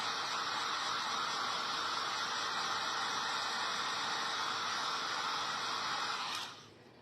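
A hair dryer blows continuously at close range, a loud steady airy whoosh that cuts off abruptly near the end.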